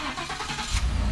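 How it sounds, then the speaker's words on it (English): A 2014 Ford F150 Lariat crew cab pickup with a 5.0 V8 starts by remote start, cranking and catching into a low, steady rumble nearby with no talk. "It's got engine remote start."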